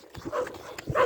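A dog gives a brief, close whimpering yip, a couple of short bursts within about a second.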